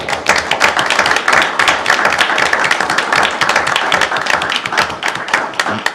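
A city council meeting audience in Saline gives a round of applause for two mural artists, a loud, dense clapping that holds steady and close for around six seconds.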